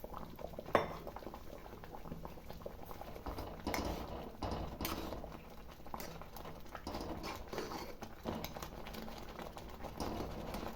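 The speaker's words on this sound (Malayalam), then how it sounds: "വെള്ളം തിളച്ച് നമുക്ക് റവ ഇട്ട് കൊടുക്കാം." Water boils quietly in a pot as semolina is added, a soft bubbling hiss underneath with occasional light clinks of a utensil against metal and one brief sharper knock near the start.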